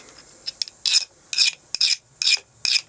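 Hand file scraping over oil-hardened steel, five or six quick strokes with a few light taps between, each a sharp, bright rasp at close range, slightly skating rather than biting, with no voices.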